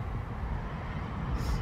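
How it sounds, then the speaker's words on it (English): A car drives past outside on a road, a steady low rumble of tyres and engine from a moderate distance that swells slightly toward the end. "This car is going by and pretty much things are as normal."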